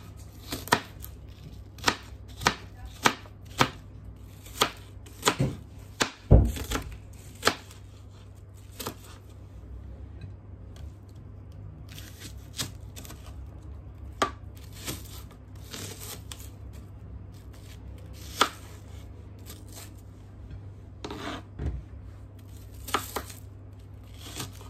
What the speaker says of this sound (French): Je coupe mes oignons, mi amor.